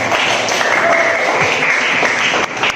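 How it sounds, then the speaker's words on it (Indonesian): A classroom audience claps loudly and steadily for a school presentation group, a dense patter of many hands that dips briefly near the end. "Cepat beri tepuk tangan yang meriah kepada kelompok 4."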